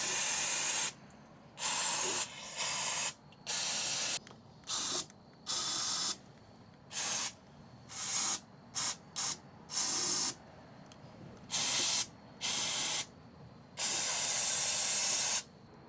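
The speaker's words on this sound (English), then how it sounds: "we're just going to clean off with a brake clean and a rag if needed" Brake cleaner sprayed in a series of sharp, hissing bursts, each roughly a second long and separated by brief pauses, while cleaning spilled oil from the underside of a Toyota Hilux Surf during an oil change.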